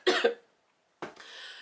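Two quick coughs close to the microphone, then a short pause and a breathy, raspy exhale or throat sound.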